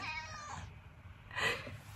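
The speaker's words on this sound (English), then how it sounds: "she likes to meow and have a go at me" A house cat meows twice, a drawn-out complaining call followed by a shorter, brighter one, close and fairly soft over a low background hum.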